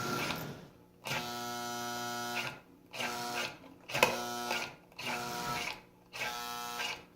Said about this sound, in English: just the fact that the motor is running at all is encouraging